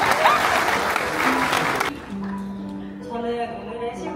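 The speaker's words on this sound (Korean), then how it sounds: "네, 큰 박수 부탁드리겠습니다" Wedding guests clap in a dense burst of applause for about two seconds, then it stops abruptly and soft sustained tones follow.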